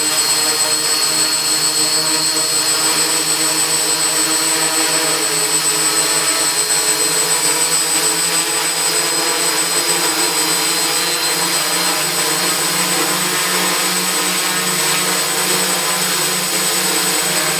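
Hexacopter drone motors spun up to half throttle for a first test liftoff, a loud, steady multi-rotor whine with high tonal lines and broadband rushing that holds continuously throughout.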